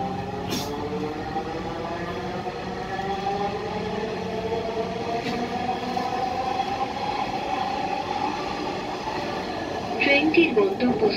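A Dhaka metro train runs on its rails between Shewrapara and Farmgate, a steady close rumble with whining tonal hum heard from inside the carriage, rising slightly near the end.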